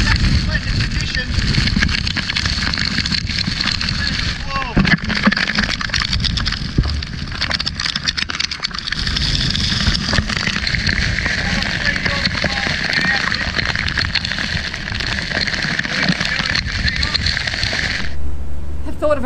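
Rain and gusting wind of a squall lashing a sailboat at sea on a passage to Indonesia, a dense continuous hiss and roar that stays loud and steady throughout.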